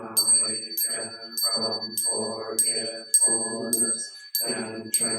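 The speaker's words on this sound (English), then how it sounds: "I send my heart along with the sound of the bell" During a Sunday service at a Buddhist temple, a high, sustained bell tone rings steadily beneath a person's rhythmic chanting voice.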